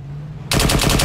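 Machine gun fire in the military game Arma 3 erupts as a loud, rapid burst of closely spaced shots after a brief quiet moment.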